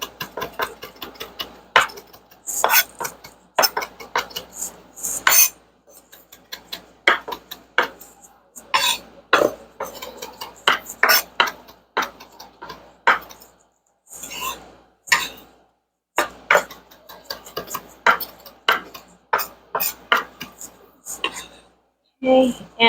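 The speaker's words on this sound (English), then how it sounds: "And the oregano, I'm also going to get that into a fine chop" A knife finely chops fresh oregano on a cutting board for Argentinian chimichurri, landing in quick, close bursts of sharp taps with short pauses between runs.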